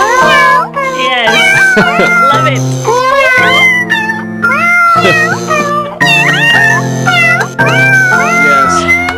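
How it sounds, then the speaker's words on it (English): Cats meowing as a cat choir, a dense run of loud, close, tuneful meows and yowls rising and falling like a melody, with a brief spoken reply near the end. "So let's cue up the cat choir."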